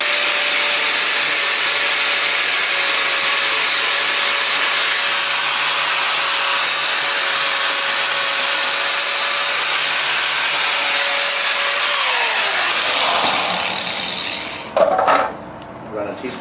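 Steady broadband hiss and crackle of a welder laying a test bead on thin steel, loud and continuous for about twelve seconds before tapering off into a few brief knocks and rattles.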